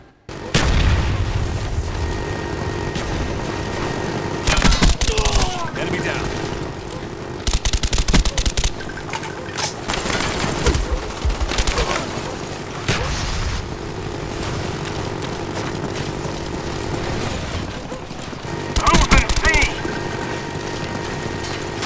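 Gunfire and booming explosions from Call of Duty Black Ops multiplayer, with a Huey helicopter gunship firing amid loud continuous battle noise and bursts of heavy shots, under game announcer voice lines.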